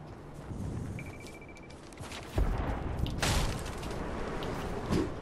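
Gunfire sounds in the distance in a shooter game, a scattered mix of muffled pops and a sharper blast midway, over a noisy, rumbling background with a brief electronic tone.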